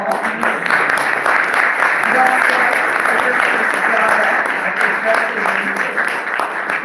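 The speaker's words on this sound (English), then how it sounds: "Yes, let's give them another round of applause." Continuous applause from a museum audience after a conversation about Buffalo Soldiers, loud and close, with voices and cheers mixed into the steady clapping throughout.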